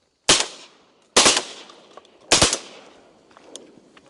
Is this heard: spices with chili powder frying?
no